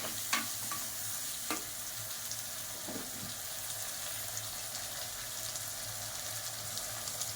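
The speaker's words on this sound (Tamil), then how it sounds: "2 தக்காளி போட்டு நல்லா வதக்கிக்கலாம்." Chopped tomatoes with turmeric and salt sauté in a pan for fish curry, making a continuous soft sizzle with a few faint scrapes from stirring near the start, steady and moderately quiet throughout.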